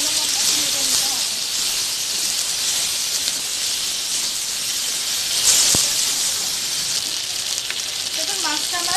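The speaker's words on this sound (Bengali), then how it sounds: "মাছটাকে একটু ভালো মতো ভেজে নিতে হবে।" Hilsa fish fries in hot oil with chili, giving a loud, close, continuous hissing sizzle with sharp crackles and pops throughout.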